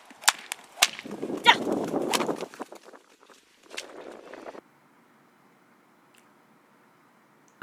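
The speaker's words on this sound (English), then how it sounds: "what are you trying to accomplish when you whip a horse?" Sharp whip cracks and slaps from a jockey whipping a racehorse during a race, several quick strikes mixed with muffled hoof and scuffling noise, then near silence.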